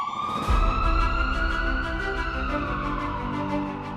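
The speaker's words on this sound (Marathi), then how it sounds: "सायरनचा आवाज करत रुग्णवाहिका हॉस्पिटलच्या दारात उभी राहते" An ambulance siren wails loud and close as the vehicle pulls up at a hospital door, its tone sweeping steadily up and down with no voices over it.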